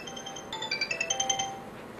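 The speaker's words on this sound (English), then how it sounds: "Hold on. Phone's ringing." A phone ringtone plays a short, bright run of electronic melodic notes, rising and stepping in quick succession, fairly faint and close, with no talk over it.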